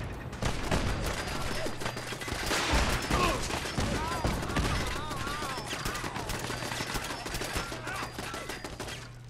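Gunfire in the video game Fallout 4, dense overlapping bursts and single shots crackling loudly throughout a busy firefight.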